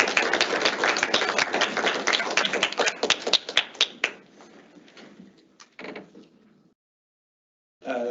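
Audience applause welcomes a speaker at an event, loud dense clapping that thins into scattered claps and fades to silence before a brief new burst of sound at the end.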